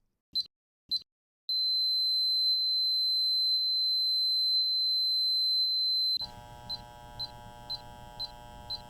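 An EVO SERVERY control box sounds electronic beeps during its limit learning process: two short beeps, then a long steady high tone, followed by regular intermittent beeps over a low motor hum.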